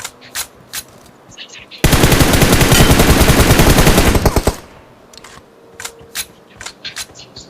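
Automatic gunfire in the BGMI mobile battle royale game: a loud, dense burst lasting about two and a half seconds, with scattered single shots and soft game sounds before and after.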